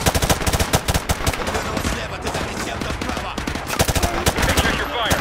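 Rapid automatic gunfire from Call of Duty Modern Warfare 2 Remastered, in the Gulag campaign mission, sounds as dense overlapping bursts of shots and loud cracks that go on without letup, with battle chatter mixed in.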